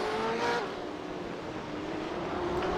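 BMW race cars battling and overtaking at Monza in a sim racing game, a continuous loud engine drone with pitch shifting as cars pass, the tone rising and falling under no talk.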